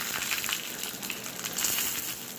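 Dried red chillies frying in groundnut oil for a Tamil mor kulambu tempering: a close, continuous crackling sizzle with sharp popping bursts, no voices.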